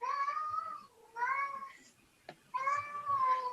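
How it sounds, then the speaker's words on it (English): A pet cat meows three times indoors, each a drawn-out, fairly close call separated by short pauses, with a small click between the second and third. "That's my cat."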